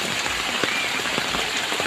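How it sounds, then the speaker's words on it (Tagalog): Steady rain pours down on a home's backyard during the rainy season, a dense continuous hiss of drops with scattered louder pattering hits, close and without any voices. "Umulan na naman kasi, lagi nang naulan ngayon, tag-ulan na talaga."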